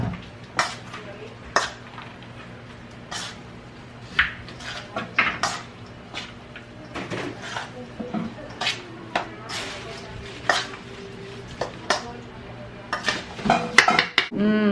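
Seasoning is worked by hand into food in a bowl, with irregular clinks and clatter of the bowl and utensils, some sharp knocks, and faint voices in the background.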